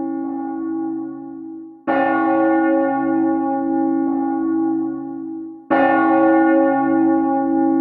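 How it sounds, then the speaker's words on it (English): A church bell rings in a town scene of the Trails of Cold Steel video game, two loud resonant strikes a few seconds apart, each followed by a long shimmering decay that hums on between them. "That bell ringing must mean it's 5 o'clock"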